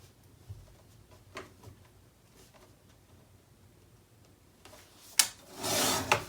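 Paper being trimmed for a mini album, quiet faint scraping and rubbing strokes followed by a sharp snip and a louder, close sliding cut near the end.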